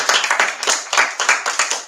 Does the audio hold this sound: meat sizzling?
no